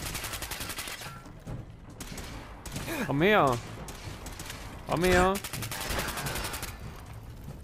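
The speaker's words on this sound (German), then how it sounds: "Die ballern auf mich." Enemy gunfire in the video game Fallout 4, rapid repeated shots in a steady crackling stream through the clip, with someone speaking briefly and two bursts of a warbling, rising tone.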